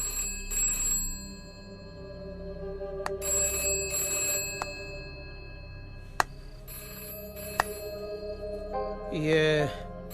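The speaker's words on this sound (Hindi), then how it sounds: "ये फिर से घंटी बजी।" A home telephone rings several times in a Hindi film scene, its tone moderately loud, with dialogue and background sounds around it.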